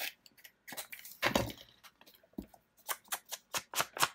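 Scissors cutting planner paper at an angle, a series of close, crisp snips and paper rustles in irregular bursts, quiet between cuts, no talk.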